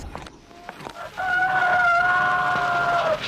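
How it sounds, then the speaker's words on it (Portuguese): A rooster crows once in a long, drawn-out call, loud and clear, rising after a quieter start with a few faint knocks. "Cuidado com o galo"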